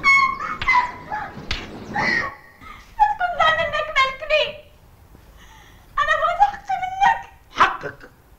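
Dog whimpering and yelping in several short bursts, with someone speaking angrily between and over the cries in an indoor scene.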